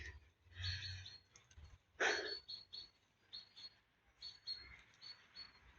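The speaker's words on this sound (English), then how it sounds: "You can probably hear the birds. Plenty of evening song going on this evening." Faint evening chirps and short bird calls from blackbirds and other birds come and go against a quiet graveyard background, scattered irregularly with no talking.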